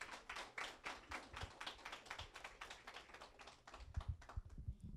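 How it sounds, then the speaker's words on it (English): A small audience at a Black History Month event claps for students, fairly rapid, faint individual claps that thin out toward the end. "Round of applause for them, please."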